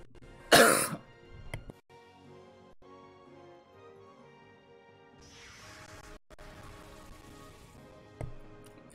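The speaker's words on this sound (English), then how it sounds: "I don't know why I keep on coughing so much" A single loud, sharp cough close to the microphone with a short throat clearing just after, followed by quiet game sounds and a soft whoosh.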